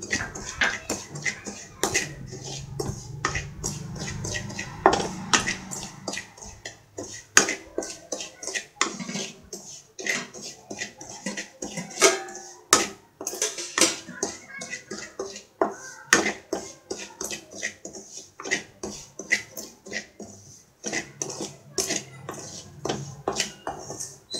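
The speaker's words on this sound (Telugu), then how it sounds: "అదే ప్యాన్లో మనం తీసి పెట్టుకున్నటువంటి ఉప్మా రవ్వ వేసుకొని బాగా వేయించుకోవాలి" A spoon scrapes and taps repeatedly against a metal pan as semolina (upma rava) is stirred and roasted for rava kesari, producing irregular close clinks with no talking.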